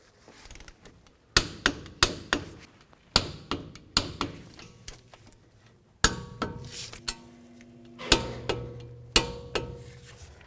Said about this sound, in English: we're going to torque each one of these to 71 foot-pounds with our torque